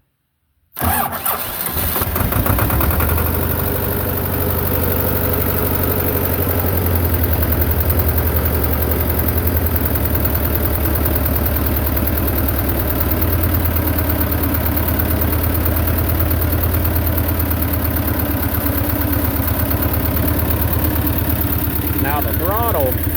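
A Belarus 250 tractor with a fuel delivery problem cranks and catches, then settles into a loud, steady idle that runs close by for the rest of the time. A voice speaks briefly over the engine.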